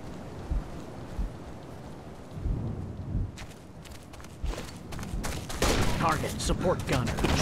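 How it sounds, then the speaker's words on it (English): Gunfire in the military shooter Operation Flashpoint: Dragon Rising, starting as scattered distant shots over rain-like noise, then turning into a denser, louder run of sharp cracks in the final seconds. "Shots fired."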